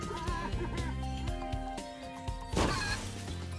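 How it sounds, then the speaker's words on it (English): A chicken clucks in the Spyro video game, a short burst of squawking clucks over game music, followed by a thwacking hit. "Aw, poor fat chicken."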